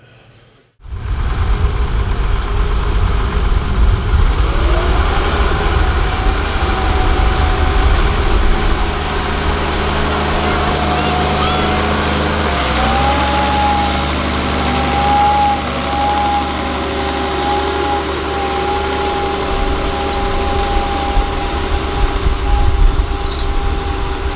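A new tractor's engine starts outdoors and settles into a loud, steady diesel idle with a low hum and faint whining tones, its pitch shifting slightly partway through as it keeps running.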